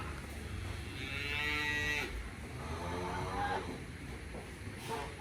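Cattle sharing an open pen with geese moo repeatedly, several long, drawn-out lowing calls close by, with wind rumble and farmyard background noise.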